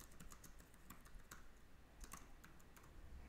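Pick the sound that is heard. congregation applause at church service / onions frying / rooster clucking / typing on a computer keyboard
typing on a computer keyboard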